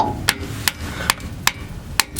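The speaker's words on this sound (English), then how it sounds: "bang on it with a hammer on the bottom of the freeze plug" A hammer bangs on the bottom edge of a freeze plug in a GM 4.3 V6 engine block, five sharp metallic strikes spaced about every half second, loud and close against a quiet background.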